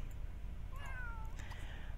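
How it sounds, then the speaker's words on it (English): A cat meows in The Sims 3 video game, one drawn-out, falling meow with a second shorter cry after it, clear over a low steady game-music bed. "Why don't you be a little bit nicer to this cat? Feed it a treat."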